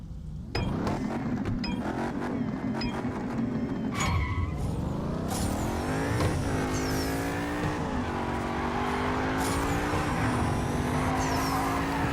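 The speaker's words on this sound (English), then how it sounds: "Skyline just zooming away from me" Race cars in the mobile racing game Need for Speed No Limits, a Nissan Skyline among them, roar steadily with engines rising and shifting through the gears. A brief tire screech cuts in early, and the sound stays loud and continuous throughout.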